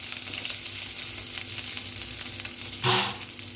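Onion, tomato and dried red chillies sauté in a pan with a steady, close sizzle, and one sharper stir or clatter flares up near the end.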